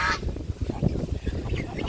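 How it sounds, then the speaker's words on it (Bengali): Geese kept near fish ponds honk in short nasal bursts, several calls overlapping at close range with a steady outdoor background. "রাজহাঁস রাজা হাঁস প্রচুর পরিমাণ ঘাস খায়"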